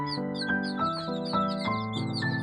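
Young chicks cheeping and clucking nearby during feeding, a steady run of short repeated calls with no voices over them.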